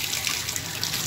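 Shower water running steadily at high pressure after a shower cartridge and pressure balance unit repair, a continuous close hiss of spray with no voices.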